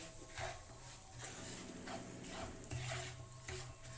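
Semolina roasts in a pan over a low flame, giving a soft, continuous rustle with gentle rhythmic stirring scrapes and faint clinks from the spoon, fairly quiet throughout.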